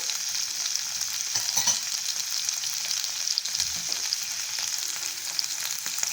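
Four green chilies fry in a hot pan for a paneer pasanda, producing a steady, crackling sizzle with occasional soft stirring scrapes and no talk.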